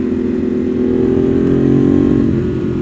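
A motorcycle with a Termignoni race exhaust rumbles loud and close with a deep, throaty exhaust, holding a steady low growl with a slight rise in revs.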